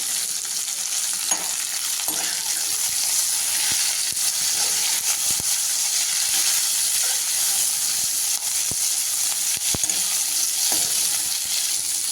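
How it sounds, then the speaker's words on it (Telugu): Drumstick leaves frying in a spoonful of hot oil in a kadai, a continuous loud sizzle with faint stirring ticks scattered throughout. "ఇప్పుడు ఆయిల్ వేడైందండి మునగాకు వేసుకోవాలి మునగాకు దూరగా వేయించుకోవాలి"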